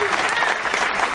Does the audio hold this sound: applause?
yes